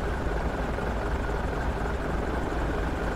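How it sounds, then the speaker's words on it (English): Helicopter in the tactical shooter game Project Reality, a steady dense rotor roar that fills the whole stretch at constant loudness, with no talk over it. "That chopper looks dangerous."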